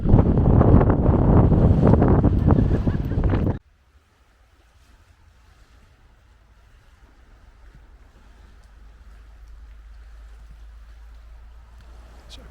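Strong wind on an open hillside by Loch Lomond roars loudly against the microphone for about three and a half seconds, then drops abruptly to a faint, steady outdoor hush.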